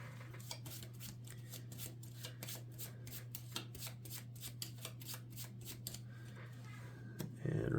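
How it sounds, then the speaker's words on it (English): A deck of game cards for a Marvel Champions match gets shuffled, a quiet, steady run of soft riffling clicks that goes on for several seconds over a low constant hum. "I need to shuffle the Invocation deck."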